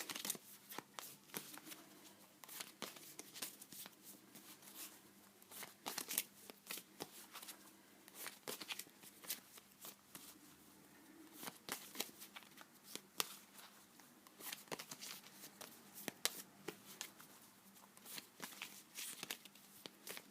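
Tarot cards are shuffled by hand, a steady run of soft riffling and flicking strokes with irregular bursts, quiet and close, with no one speaking.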